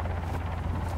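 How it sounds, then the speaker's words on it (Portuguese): A helicopter in the survival game Sons of the Forest gives off a constant low, dense rotor and engine roar, heard briefly and steadily with no speech. "Eu já vi esse helicóptero antes,"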